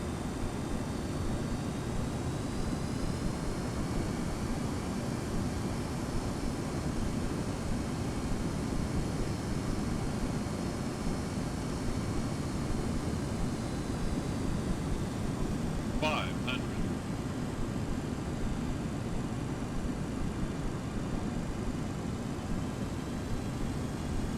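Steady roar of an MD-83 airliner's engines on approach, heard from the cockpit as a constant loud broadband drone with a brief faint chirp partway through.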